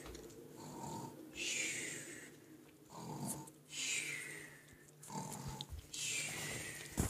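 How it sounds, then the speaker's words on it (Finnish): A person snores in slow, regular cycles, each a rough, rattling intake followed by a quieter breath out, close by and fairly soft, with three full breaths heard. "Kuorsaus käy."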